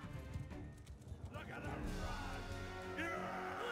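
Horse hooves clip-clop and a horse whinnies amid battle noise in Mount and Blade II: Bannerlord, rhythmic hoofbeats in the first half giving way to a busier, louder mix with a whinny near the end.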